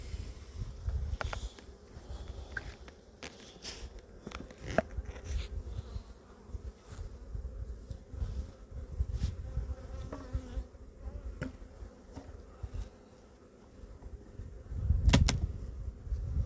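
Honey bees buzz steadily at close range while a hive is opened for a February inspection, forming a dense continuous drone with scattered knocks and handling sounds from the hive box and a louder rustle near the end.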